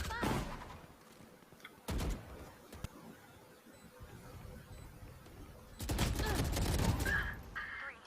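Gunshots in a competitive video game tournament match, a few sharp cracks followed by a dense flurry of shots, heard under a commentator's fast talk.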